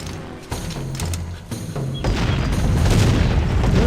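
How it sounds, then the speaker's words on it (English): Small catapults attacking in the strategy game Empires: Dawn of the Modern World, deep booming impacts and mechanical thumps building into a dense, rumbling barrage over a few seconds. "So yeah, they're fighting with little catapults"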